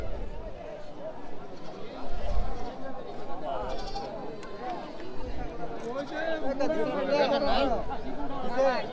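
Goats bleat repeatedly amid busy crowd chatter and people talking nearby, a noisy, crowded outdoor livestock scene.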